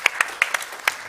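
Audience applause at a design thinking event, heard as a handful of sharp, separate claps spaced unevenly, with no voices over them.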